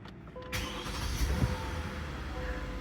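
A car engine cranks and catches after a new ECU install and fuse fix, a brief starter burst settling into a steady idle close by.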